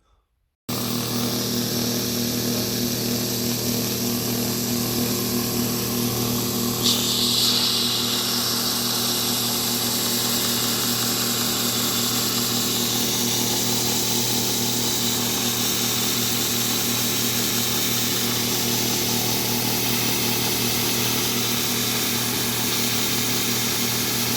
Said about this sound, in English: I'm actually going to use the sander to taper the leg